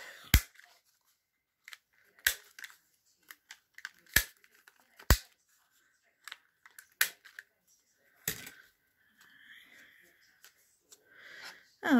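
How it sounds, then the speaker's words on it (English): Scissors snip the corners off a paper weekly planner: a handful of sharp, separate cuts spaced by pauses, close by and fairly quiet, with a few small handling rustles between them. "I think I want to cut the corners."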